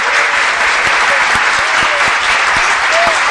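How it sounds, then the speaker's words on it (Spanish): Steady, dense applause from a show's audience for a performer, loud and continuous throughout with scattered individual claps standing out. "Yo tengo que darte un aplauso, Cuco, de verdad."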